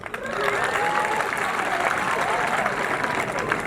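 A crowd claps at a police passing-out ceremony for Special Police Constables in Elgon, loud, dense applause after a brief ragged start, holding steady to the end.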